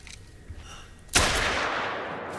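A single loud rifle shot rings out in theHunter: Call of the Wild, fired at a bobcat, cracking sharply after a quiet ambient stretch and leaving a long rolling echo.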